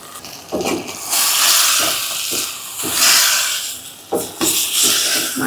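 Pigeon meat added to a hot pan of cooked-down spices and oil sizzles in loud hissing bursts, swelling and easing with stirring, close and alone without talk.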